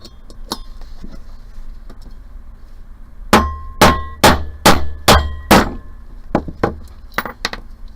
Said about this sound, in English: And so now I'm going to go ahead and hammer that one.